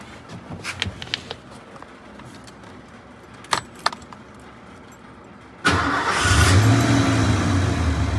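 Keys jangle and a few clicks, then a Ford F-150 truck's 5.0L engine, with a newly replaced coolant temperature sensor, cranks and fires up loudly, settling into a steady revving rumble close by.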